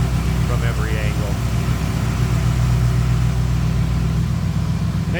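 The engine of a 1953 Ford F100 street rod pickup runs at a steady idle, a constant close low hum, with brief bits of a voice over it.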